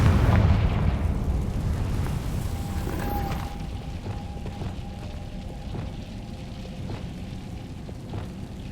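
A Confringo fire spell explodes in Hogwarts Legacy, giving a loud booming blast at the start that settles into a steady rumbling roar and crackle, with no voices.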